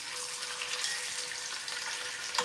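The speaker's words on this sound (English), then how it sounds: "So you should have heard that sizzle." Steady, dense sizzling of chicken frying skin side down in hot oil, a continuous crackling hiss with no talking.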